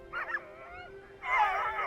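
Dogs on a frozen Greenland island where fish are caught through the ice, giving a few yips and whimpers, then a louder burst of barking near the end, heard at a moderate distance.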